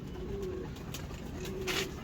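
Faisalabadi desi breed pigeons coo in repeated low, throaty phrases, close by and steady, with no talk over them.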